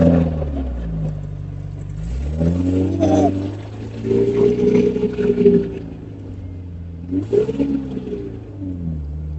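A motorbike engine revs up and eases off as it moves through first and second gear, its pitch rising sharply twice and then settling in a loud, close, droning tone.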